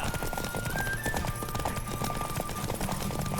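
A horse gallops at speed in The Witcher 3 video game, its hooves drumming in a fast, continuous clip-clop close by, laid over a steady bed of game ambience.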